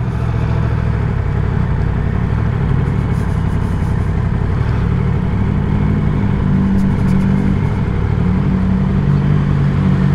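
Yamaha MT-09 SP or MT-10 SP motorcycle engine running steadily, a loud, close, continuous mid-pitched drone with slight pitch shifts, alone without talk.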